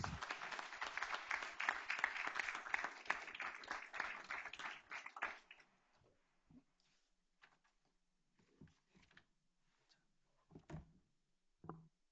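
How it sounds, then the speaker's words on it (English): A board meeting audience gives a round of applause for students, with dense clapping for about five seconds that tapers off, then a few scattered claps and faint room shuffles in a quiet hall. "Let's give them one final big round of applause."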